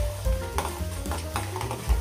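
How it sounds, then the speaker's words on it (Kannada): Mustard seeds splutter and crackle in hot oil in a pan along with cumin for tomato chutney, a steady close sizzle with scattered popping bursts and no talk. "ಅಂದರೆ ಸಾಸಿವೆ ಎಲ್ಲ ಹೊಡೆದೋಗ್ಬೇಕು"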